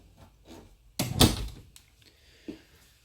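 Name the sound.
pantry drawers pulling out in an RV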